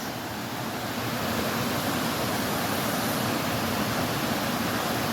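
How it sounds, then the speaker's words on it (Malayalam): Dhoni waterfalls pour in a constant, broad, hissing rush of falling water, even and unbroken throughout, with no voices. "അപ്പോൾ ഗൈസ് ഇതാണ് നമ്മുടെ ധോണി വാട്ടർഫാൾസ്"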